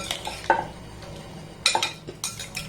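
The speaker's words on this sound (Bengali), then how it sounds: "ফুটন্ত গরম জলের মধ্যে দিয়ে আমগুলোকে এইভাবে কিন্তু একটু নাড়াচাড়া করে নিতে হবে" Raw mangoes are stirred in boiling salted water, with a few sharp utensil knocks and clinks against the pot over a low background, sounding close and intermittent without speech.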